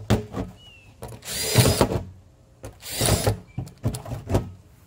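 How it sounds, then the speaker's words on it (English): A power drill bores holes into a plastic container in a series of short whirring bursts of varying length separated by pauses, with clicks and handling noise between them, close and fairly quiet. "you want to start off by drilling holes into your container."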